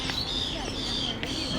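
Birds call at a zoo in Riyadh: faint chirps and cooing over a steady hum of background noise, with people talking nearby.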